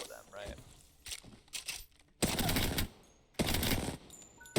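Rapid SMG fire from the Apex Legends video game comes in two long, dense bursts after a few short shots, loud and close in the game mix with a voice talking over the early part.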